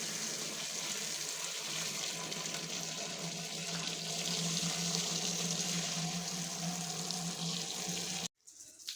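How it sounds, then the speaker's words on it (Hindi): Supply tap water pours steadily into containers at a household sink, a continuous close hiss and splash that runs unbroken for several seconds before cutting off abruptly near the end. "अब पास में पानी भरते हैं, सप्लाई पानी आया हुआ है"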